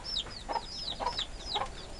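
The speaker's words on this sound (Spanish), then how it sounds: "Mira la gallina aquí" A chicken on a Cuban homestead clucks nearby in a run of short, sharp calls at fairly regular intervals, fairly loud, with no talk over them.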